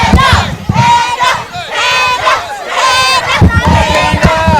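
Children in a crowd at a Halloween wrestling show at Waxhaw Tap House scream and cheer in loud, rhythmic surging bursts, close and shrill, with chanting swells rising and falling.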